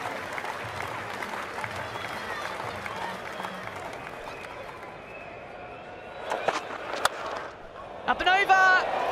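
Cricket crowd applauding Jos Buttler's innings of 61 off 30 balls at an England v Australia T20 international, a broad steady wash of clapping under a commentator's talk, with a few sharper bursts near the end.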